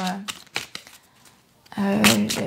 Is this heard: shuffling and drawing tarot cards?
yes